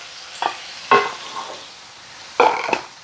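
Garlic and mushrooms fry in a pan for beef stroganoff while a utensil stirs them, giving a few separate scraping bursts over a soft, steady sizzle.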